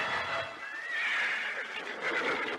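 A horse pulling a carriage gives a loud, drawn-out whinny that rises and falls across the whole moment, with faint hoof clip-clops beneath and no voices.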